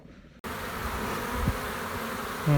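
Honey bees freshly moved into a new hive, a dense continuous buzzing drone close by that starts abruptly and swells slightly toward the end, with no talking.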